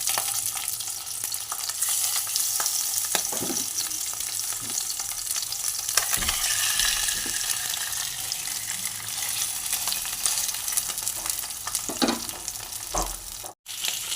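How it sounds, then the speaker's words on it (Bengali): Pabda fish fry in a little oil in a wok, giving a continuous soft sizzle with occasional stirring clinks and scrapes, close and steady with no talk. "দেখুন বন্ধুরা, মাছগুলো আমি এইভাবে ভেজে নিচ্ছি।"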